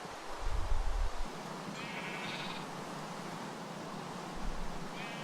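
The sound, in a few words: sheep bleating in a video game (Minecraft-style modpack)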